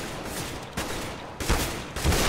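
Gunfire in the game CS:GO, a few sharp bursts of shots rising over a steady busy background, with louder volleys near the middle and end.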